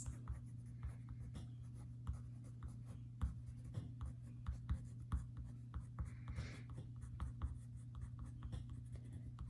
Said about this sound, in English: I'm going to use my crayons for this.